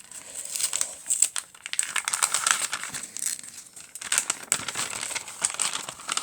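A paper-wrapped package is torn and crinkled open by hand, close and fairly quiet, with bursts of crumpling and ripping coming in uneven clusters and brief pauses between them.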